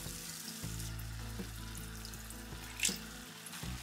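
Water runs steadily from a tap into a pan of chana dal fry curry for the gravy, a smooth continuous pour lasting about three seconds, close and quiet, with a small clink near the end and no talking.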